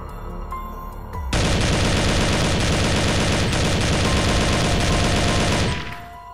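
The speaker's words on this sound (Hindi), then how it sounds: "सभी सोल्जर्स उन ड्रैगन्स पर फायर करने लगते हैं और उन्हें मारने की कोशिश करते हैं।" Rapid, sustained gunfire from soldiers shooting at dragons in an animated story erupts suddenly after a quiet start, loud and dense bursts continuing for several seconds before tapering off.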